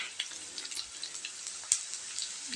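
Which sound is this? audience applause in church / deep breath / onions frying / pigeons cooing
onions frying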